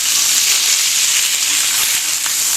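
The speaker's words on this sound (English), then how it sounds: "I'm going to sear it on the side about 10 long seconds for each exposed side" A chuck eye steak searing on its edge in a hot pan, a loud, dense, steady sizzle close up.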